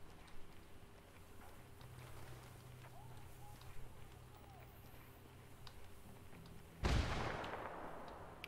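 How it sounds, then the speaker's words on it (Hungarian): A loud explosion erupts suddenly near the end of a quiet stretch in Ghost Recon Wildlands, a broadband blast followed by a lingering rumble over low background game ambience. "Valami robbant."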